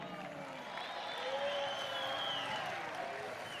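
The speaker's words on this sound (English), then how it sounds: "please give me applause for fair play, for an exciting match and for good time in Essen" A large crowd applauds at a street football tournament arena in Essen, a sustained, somewhat distant wash of clapping with faint cheers rising and easing.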